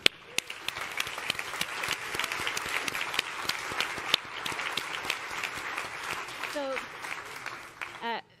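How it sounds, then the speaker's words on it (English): An audience applauds at the Alpine F1 team's 2023 A523 season launch event, a dense burst of clapping that fades toward the end, with voices mixed in underneath. "So a big applause for them."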